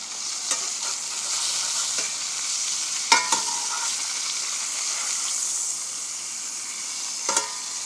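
Bacon-wrapped venison backstrap sizzles in a pan with a steady, bright hiss, broken by a couple of clunks as the meat is turned and knocked against the pan.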